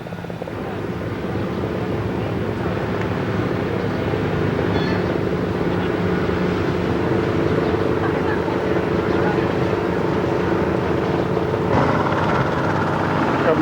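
A news helicopter drones steadily overhead above a crowded bicycle ride in Fairfield, Iowa, its rotor noise blending with a continuous background of crowd and road sound.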